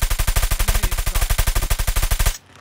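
Rapid automatic gunfire in the Call of Duty: Mobile video game, a long, evenly paced burst of loud, close shots that stops abruptly near the end.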